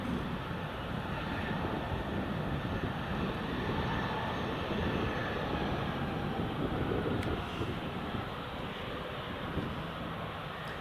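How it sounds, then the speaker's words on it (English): Ryanair and EasyJet airliners lining up on the runway at Newcastle International Airport in rain, giving a steady, broad engine roar from a distance that holds even throughout, with wind noise over the microphone. "So we've got Ryanair just lining up now, and we have the EasyJet"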